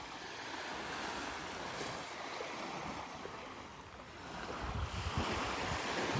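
Ocean surf breaking on the beach at Delnor-Wiggins on a morning walk: a continuous wash of waves with a little wind noise, swelling louder toward the end, with no voices.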